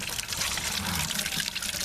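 Water pouring from a valve on a classic truck into a bucket, a close, steady splashing gush with bubbling texture, continuous throughout.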